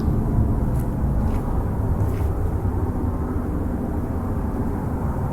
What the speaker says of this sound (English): It's just a plane going overhead.